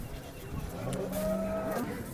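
A cow at a busy village cattle market in Modnimb gives one low, drawn-out moo lasting about a second, close by over a dull background murmur.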